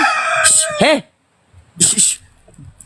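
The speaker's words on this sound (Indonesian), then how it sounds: "ini memang ayam" A rooster crows loudly and close by in short rising-and-falling calls, with voices talking around it.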